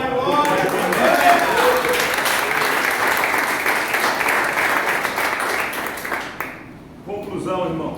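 A church congregation claps and cheers at a Brazilian family worship service, sustained dense applause filling most of the stretch before tapering off abruptly, with voices mixed in near the end.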